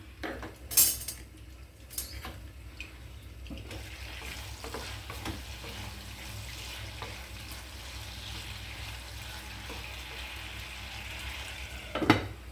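Vegetables shallow frying in a pan over medium heat, with a steady sizzle and soft stirring and scraping of a utensil against the pan, plus a couple of sharper clinks near the start and end; no voices.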